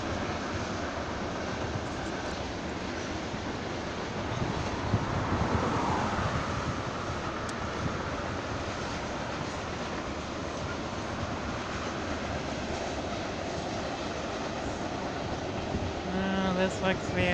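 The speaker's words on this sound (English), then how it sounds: "BNSF green train going northbound on track 1" A long BNSF freight train of about 110 cars runs northbound on track 1 in a steady, loud, continuous rumble with heavy wind noise over the microphone. A faint voice is heard now and then.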